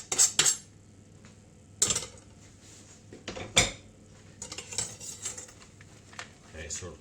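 Metal utensils clink and scrape against a bowl while chocolate is stirred into a large batch of homemade brownie batter, giving a few sharp taps and irregular scraping strokes, close and fairly quiet, with no talking.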